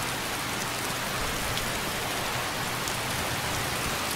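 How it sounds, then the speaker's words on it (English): Steady, dense rainfall from the EMB weather mod in Skyrim SE, a constant close hiss of drops on surfaces with no thunder or voices, even in loudness throughout. "I actually love it when it rains, because the rain looks so good now."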